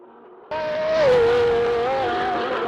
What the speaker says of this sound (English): The 905 handles it beautifully, accelerating hard out of the bend.